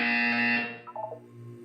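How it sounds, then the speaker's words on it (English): A loud electronic buzzer from the Portal 2 video game sounds as a steady harmonic drone, then cuts off, followed by a short chirping electronic tone sequence. "You will hear a buzzer."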